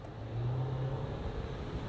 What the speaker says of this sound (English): now our reverse acceleration test.